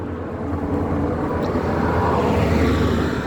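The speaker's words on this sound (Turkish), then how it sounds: "70-65 traktörü görmektesiniz." Tümosan 7065 tractor engine idling with a steady, loud low-pitched diesel rumble and drone, constant throughout with no talk.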